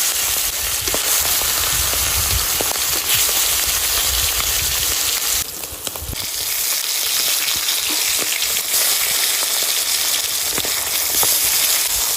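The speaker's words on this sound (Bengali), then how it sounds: "কড়াই গরম হয়ে গেছে, এবার সর্ষের তেল দিয়ে দেবো।" Mustard oil sizzling and spattering in a hot wok, a loud, continuous crackling fry with brief stirring and scraping sounds and a short dip midway.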